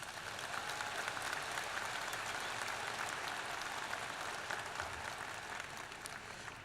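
A crowd at a university spring commencement ceremony applauds in a steady, even wash of clapping that holds throughout and fades slightly at the close, heard at a distance in a large venue.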